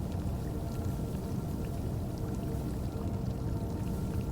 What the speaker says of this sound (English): The sound of the water is much closer now.